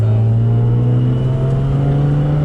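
A 900 hp Nissan R32 Skyline GT-R engine warms up with a loud, steady idle, its deep drone holding nearly constant at close range with no voices.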